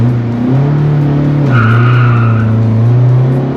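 Drag race car with a 1.9 engine accelerating hard in second gear, a loud continuous engine drone with tires squealing sharply midway through, close and alone.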